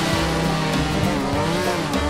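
A Yamaha F1ZR two-stroke motorcycle in GTA 5 roleplay runs at full speed, its engine note buzzing loud and close with rising and falling revs and a bright, rough edge.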